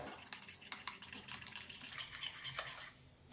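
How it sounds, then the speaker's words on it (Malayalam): Dynamite chicken dip ingredients with paprika powder being mixed in a bowl, giving a steady close scraping and stirring with light clinks of a utensil against the dish and no talking. "ഇനി നന്നായിട്ട് മിക്സ് ചെയ്തെടുക്കാം"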